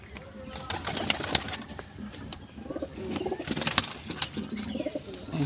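Soft, low cooing of pigeons against steady background noise, with occasional wing flutters and faint chirps.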